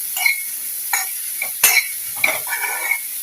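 Black chana snack is stirred and mixed in a pan, with scattered spoon scrapes and light metallic clinks over a faint background hiss.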